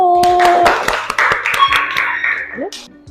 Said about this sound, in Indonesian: Sekali lagi tepuk tangan untuk kelompok 1.